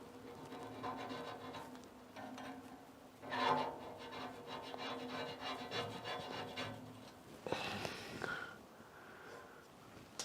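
A pocket knife trims excess gasket material from a Lone Star Grillz grill door seal, giving faint, close rubbing and scraping strokes, with a brief sniff-like burst partway through and a sharper scrape near the end.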